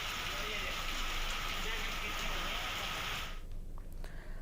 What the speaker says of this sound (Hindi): इतनी तेज आंधी और बारिश का कहर कोंडागांव में देखने को मिला